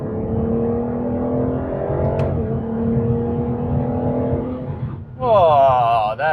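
Aston Martin Vanquish with a 5.9 liter V12 pulling hard on a highway in sport mode, a steady loud engine drone rising in pitch through one gear, then a quick shift and a sharper climbing rev close by.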